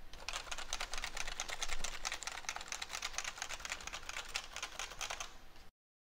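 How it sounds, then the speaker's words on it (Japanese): Steady, rapid typing on a computer keyboard captured through a Sennheiser PC5 Chat headset mic with a Sound Blaster X G1, dense clicking keystrokes continuing for about five and a half seconds before cutting to silence. "適当にキーを打鍵しています"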